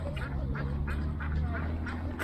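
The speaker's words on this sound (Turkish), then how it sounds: "Burada ördekler var." Ducks beside a stream near the sea at Adrasan, Turkey, quack repeatedly at a steady pace over a constant low outdoor hum, moderately close.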